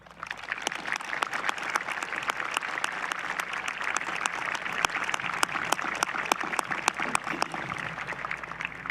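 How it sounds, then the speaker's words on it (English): Graduates at the iHHS commencement ceremony giving the staff a long, sustained round of applause, dense clapping with sharp individual claps rising above the crowd for several seconds. "Graduates, I ask that you join me now and give our brave staff a huge round of applause."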